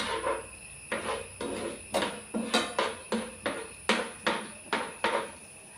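Sprouted green gram being sautéed in hot ghee in a pan, heard as a regular series of about a dozen sharp spoon-on-pan knocks, evenly spaced and fairly close.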